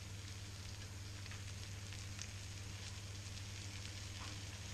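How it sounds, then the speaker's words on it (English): Lamb sweetbreads frying in butter in a pan make a faint, steady, even sizzle with light crackles over a low background hum. "fry them just until they start crisping up"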